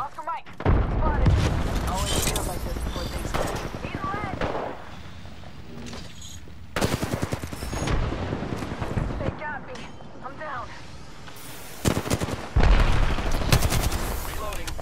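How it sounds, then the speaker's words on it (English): Enemies open fire in Apex Legends during a ranked match, with loud rapid gunshots and machine-gun bursts erupting in waves, broken by brief lulls, while voices talk over the shooting. "The enemies are shooting at me."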